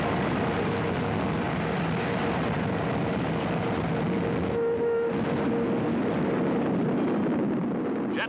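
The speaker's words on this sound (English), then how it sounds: "Another V-2 is launched" A V-2 rocket launches on an old 1945 newsreel soundtrack as a loud, continuous roaring rush. The dense, noisy blast holds throughout and briefly dips partway through before swelling again.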